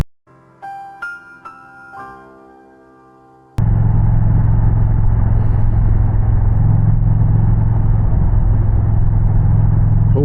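Indian Challenger motorcycle with a Powerband Audio Hawks Nest exhaust, a loud deep steady idle rumble that starts abruptly after a few seconds of plucked musical notes and continues to the end.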